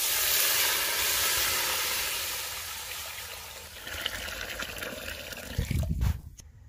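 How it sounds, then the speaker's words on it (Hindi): Water pours steadily into a pot for village-style egg dum biryani with a hissing, rushing stream, then a few clattering knocks near the end. "अब हम पानी शामिल कर देंगे।"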